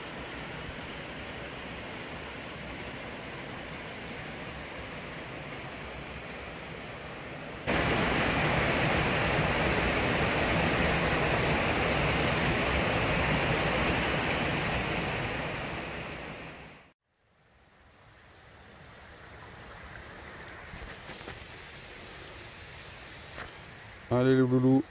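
Waterfall at night, a continuous rushing roar that grows louder at about eight seconds and drops away near seventeen seconds, returning as a fainter hiss with a brief bump at the end.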